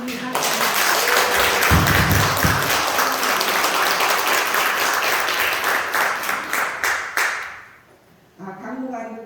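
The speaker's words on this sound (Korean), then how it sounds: "박수 한번." Church women's mission group gathering breaks into loud sustained applause from the congregation, dense clapping that tapers off near the end before a voice resumes speaking.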